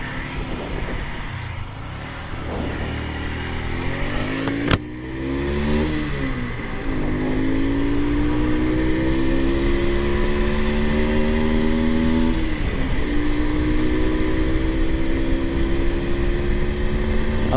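A 125cc motorcycle rides along, its engine note droning steadily and rising and falling through the gears, close and loud throughout, with no talking.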